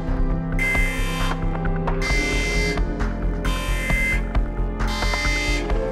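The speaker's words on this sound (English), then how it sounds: "Why does everyone have a damn alarm system these days?" An electronic alarm blares in four repeated pulses about a second apart, harsh and loud over a low throbbing hum.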